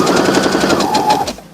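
A sewing machine stitching a jacket lining for a boy's three-piece suit: a fast, steady mechanical chatter of needle strokes, close and loud, running for over a second before stopping abruptly.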